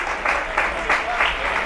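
San Pedro football fans in the stands clap for a player leaving the pitch after substitution, a short burst of crowd applause with uneven pulses, heard at a distance.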